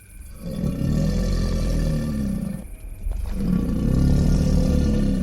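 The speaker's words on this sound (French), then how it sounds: "les rugissements du roi de la jungle" A lion roars loudly and close, two long rumbling roars separated by a brief pause.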